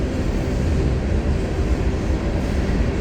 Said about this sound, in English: So the train is picking up speed from the tune of the sound it makes,